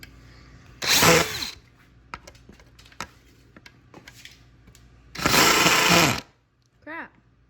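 An impact driver drives a screw into wood while a wooden boat is being built, firing in two loud hammering bursts about a second each, with a short whine and scattered clicks between them.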